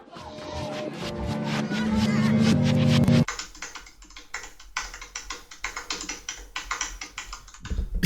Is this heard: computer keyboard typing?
yes